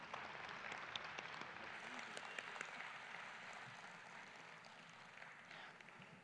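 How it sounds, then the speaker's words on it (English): Audience applause at a members' presentation, a steady wash of many hands clapping at a moderate distance, sustained evenly throughout with little variation. "Let's give them another round of applause"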